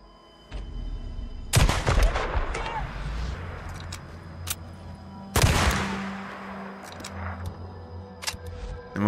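Two loud rifle gunshots in the zombie survival video game Days Gone, spaced a few seconds apart, each a sharp broadband crack with a ringing tail, over a low game ambience with faint clicks.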